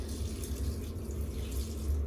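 Water is poured into an aquarium canister filter holding sand and bacteria media, giving a soft, continuous splashing trickle with low gurgling underneath, fairly quiet and close.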